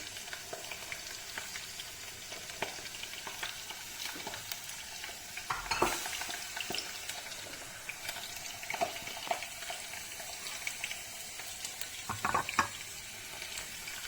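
Onions and peppers frying in a pan, a steady low sizzle with occasional stirring scrapes and small bursts of crackle, quiet and close, with no voices.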